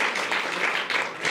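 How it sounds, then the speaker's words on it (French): Audience applause at a French political talk-show set in a bistro, a steady wash of many hands clapping without break, fairly distant and moderate in level. "on peut l'applaudir."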